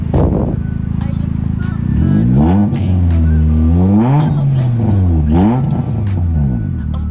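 A Honda Jazz GK 1.5 V+ automatic from 2017 with an RS body kit revs loudly nearby, its engine note rising and falling through several sweeping blips with no one speaking.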